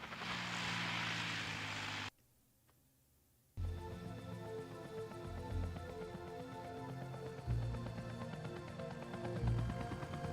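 A helicopter descends in the Resident Evil Director's Cut game, a broad whooshing rotor roar that cuts out briefly, then returns with a steady low engine drone and thumps.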